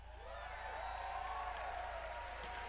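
A crowd at Bethesda's E3 presentation applauds and cheers faintly, a soft, distant wash of clapping that sits beneath sustained tonal sounds and lasts throughout.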